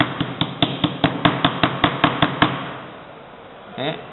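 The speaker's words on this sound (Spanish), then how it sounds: "las vamos a emparejar con el martillo" Hammer tapping transformer core laminations to level them, a series of about eleven sharp, evenly spaced metallic knocks, close and loud, followed by a quiet pause and a brief scrape.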